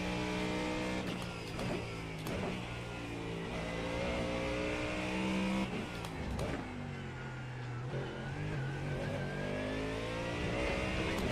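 Ford Mustang GT3 race car engine in the iRacing sim racing game, revving up and down through gear changes at moderate loudness, with faint voices occasionally underneath.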